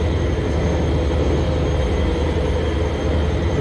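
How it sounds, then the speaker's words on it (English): A train rolls along steadily in the Transport Fever 2 video game, a continuous, even rumble with a low drone that holds at the same level throughout, with no voices. "this train here is about to go through a tunnel"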